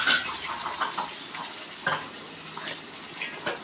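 Coriander and curry leaves with turmeric sizzle steadily in a pan for curd rice tempering, with a few brief stirring scrapes breaking through the continuous frying hiss.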